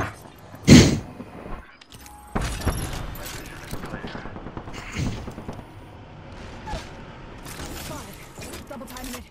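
Gunfire in the video game Apex Legends, a loud burst near the start followed by scattered shots and game effects under ongoing voice chat.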